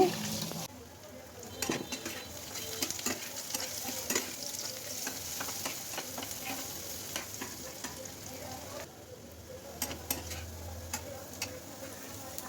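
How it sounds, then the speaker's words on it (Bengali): Onions fry in oil in a pan, giving a steady soft sizzle broken by frequent ticks and clinks of stirring, low in level with no speech. "এখন ওই তেলে আবার এই যে পেঁয়াজগুলো দিয়ে দিছি পেঁয়াজগুলো ভাজা হতেছে"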